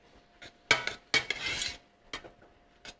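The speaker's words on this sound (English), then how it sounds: "all I want to do here is break up the turkey" A spatula scrapes and clatters against a pan while breaking up ground turkey for a pumpkin black bean turkey chili, with several sharp metallic knocks and a brief rough scraping burst, fairly close.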